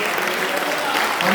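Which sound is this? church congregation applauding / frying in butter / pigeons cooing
church congregation applauding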